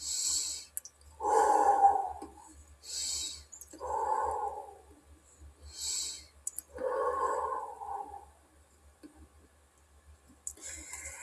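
Three slow, deep breaths are taken close to the microphone during a ritual, each a soft, airy breath lasting about a second or two with quiet gaps between, alongside faint low hum and light clicks.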